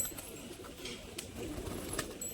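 A male biscuit-coloured pigeon coos in a low, throaty burst lasting a couple of seconds, close by and fairly soft, with no talking.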